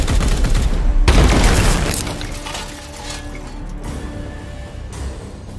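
Loud burst of gunfire from the Warhammer 40,000 game Chaos Gate: Daemonhunters, a heavy volley crashing in at once and then ringing down into a lower rumble with scattered impacts.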